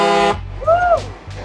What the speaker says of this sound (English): we're going to get some engine noise and air horn